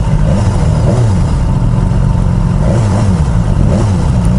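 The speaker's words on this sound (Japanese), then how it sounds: "ニュートラルだと3000回転までは吹き上がるんですけど、そこからが止まりますね" A BMW motorcycle engine revs in neutral at a meeting, a close, loud, continuous rumble that rises and falls in repeated throttle swells.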